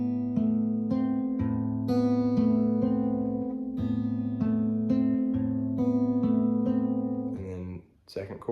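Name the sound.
acoustic guitar fingerpicking chords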